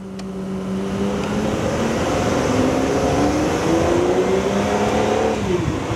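An Aston Martin V12 Speedster engine revs up loud and close, its drone climbing steadily in pitch for several seconds, with a sharp exhaust crack near the start before the note drops away.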